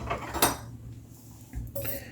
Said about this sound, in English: Just take a spoon and kind of stir it up.